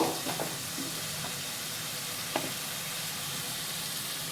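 Onions and two dried chillies fry in a pan, giving a steady close sizzle with faint stirring scrapes and a couple of soft clicks, no voices.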